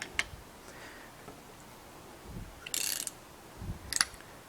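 A depth adjustment knob on a RIDGID 975 roll groover being cranked, with faint ratcheting mechanical ticks and a couple of sharper metallic clicks spaced across a quiet background.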